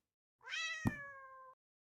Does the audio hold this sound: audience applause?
no